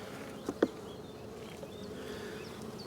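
Honeybees buzz in a beehive, a steady soft drone close by with a couple of brief louder bumps near the start and no voices.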